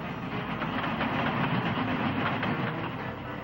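An animated train runs along the rails with a steady, dense rumbling clatter and hiss, loud and continuous throughout with no talking.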